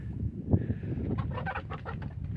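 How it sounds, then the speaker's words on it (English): Chickens cluck and fuss close by in an agitated, continuous jumble of short calls with no one speaking. "Back to the chickens. They're getting pissy."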